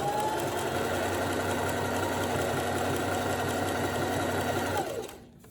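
A sewing machine stitches fabric fringe for a stripper outfit, a steady, close mechanical whir and rapid needle rattle running without pause before cutting off abruptly near the end.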